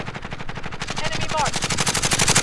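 Rapid automatic gunfire rattles in a steady burst of shots inside the Warzone video game, loud and continuous throughout, with a faint radio-style voice callout layered over the shooting.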